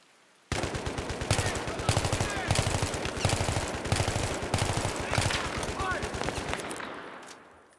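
Sustained machine gun fire in Battlefield 3, rapid bursts of loud close shots with cracks of passing rounds, pinning down the player for several seconds before fading out.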